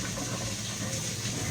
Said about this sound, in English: just bring your potatoes over to your sink and pour them in your colander.